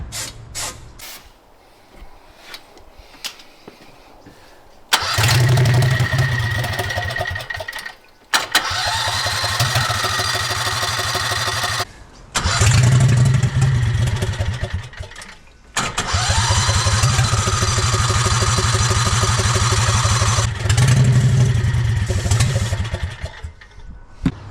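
A Harbor Freight Predator V-twin engine on a golf cart being cranked, several loud starter bursts separated by brief pauses, each cranking run churning with a rough mechanical roar before cutting off.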